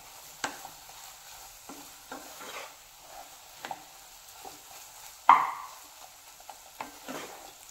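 Eggs cracked straight into a hot pan for Indian egg bhurji, unbeaten, give a soft sizzle broken by stirring and scraping sounds, with one sharper hiss as they hit, quiet and close with no talking.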